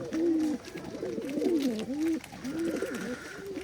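A pigeon coos repeatedly up close, soft throaty rolling calls in a loose rhythm with brief gaps between phrases.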